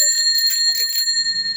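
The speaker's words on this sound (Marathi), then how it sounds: "बेल लावू दे." The bell on a new bicycle rings out in a quick series of bright metallic dings, close and clear, with its tone hanging briefly before it fades.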